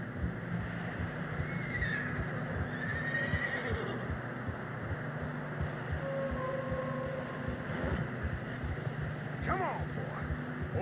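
In the Red Dead Redemption 2 video game, horses on a narrow snowy trail whinny and neigh over a constant bed of hoof and ambient game noise, with a voice talking through it.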